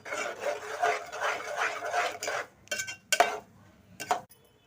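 A spoon stirs tomato puree with turmeric and salt in a pot for egg tomato curry, making rhythmic scraping and clinking strokes, then a few sharper separate metal knocks toward the end.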